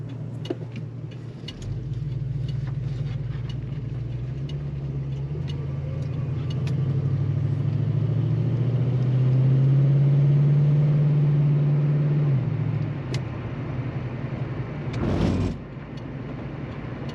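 A 1970 Mercury Cougar hardtop with a 351 Cleveland V8, cruising: a deep, steady exhaust drone swells as it accelerates, holds, then eases off near the end, with a brief whooshing pass at the close.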